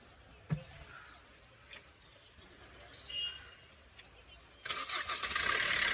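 A 2016 Maruti Ertiga ZDi+ diesel cranks and starts on a single self-start, catching abruptly near the end and settling into a steady, fairly quiet idle after a few faint clicks and possible low voices.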